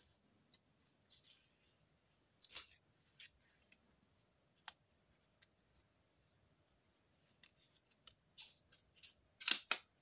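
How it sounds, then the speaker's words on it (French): Small scissors trimming kraft paper for a mini album, a few quiet, sparse snips and paper ticks spread out, louder crisp cuts clustered near the end, otherwise near silence. "Petit ciseau, parce que ça va nous gêner pour le pli."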